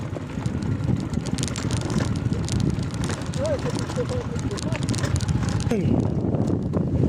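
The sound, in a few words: strong cold wind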